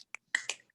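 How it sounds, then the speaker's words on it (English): A few sharp finger snaps from a small group at an evening gathering in a squash court, scattered over under a second with short gaps between them, close and fairly loud with no talking. "So everybody finger snap it out for RVP."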